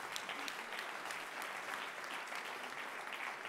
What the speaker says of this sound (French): On les applaudit tous les 4. Très fort, oui.